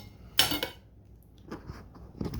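A knife cuts steak on a plate, producing a sharp scrape and clink followed by a few softer scratches of the blade against the dish, close and quiet.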